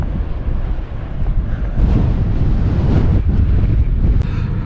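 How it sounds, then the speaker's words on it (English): Strong wind roars across a freezing mountaintop at the Wild Horse Wind Farm, a loud continuous buffeting rumble battering the microphone with no pauses. "it's like windy, or really windy, and just freezing out there"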